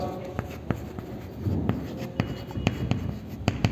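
Chalk or marker tapping and scraping on a board as a teacher writes, a run of short sharp strokes close by, with faint voice in the background.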